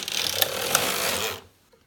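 A knitting machine carriage sweeps across one row with every needle in work, a steady close whirring rattle with a couple of sharper clicks, ending abruptly into near silence.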